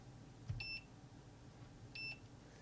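Two short electronic beeps, a moment apart, from a multimeter in diode test mode during repair of a Tektronix TDS500/600/700 oscilloscope power supply, clear over a low background hum.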